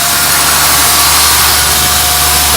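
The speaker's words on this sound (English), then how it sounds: "Revving up a little high." A 1972 Ford F100 truck engine runs loud and steady at raised revs, with a constant broad roar and no voices.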